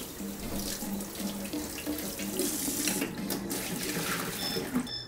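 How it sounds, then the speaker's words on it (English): Cold tap water runs steadily into a bowl of cooked eggs in a kitchen sink, a continuous splashing gush at close range with small clinks and shifts of the stream, no speech. "I'll put the eggs into a bowl, and I'm going to run it under some cold water."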